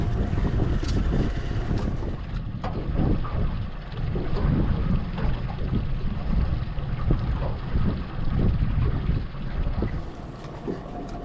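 Steady wind rushes and buffets over the open water of Odell Lake during a kokanee fishing trip, a continuous broadband roar with gusty swells throughout and no talk.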